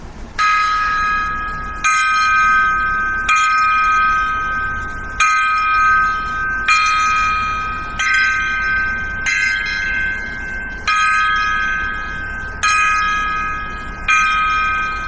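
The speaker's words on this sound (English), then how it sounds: "right now we're going to give a 10 gong salute to both these gentlemen." Ten gong strikes ring out as a salute at a steady pace of roughly one every second and a half, each a loud, bright metallic clang that fades before the next hit.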